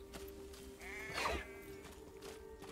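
A sheep in Hogwarts Legacy lets out a single wavering bleat, fairly faint, over a quiet ambient background hum.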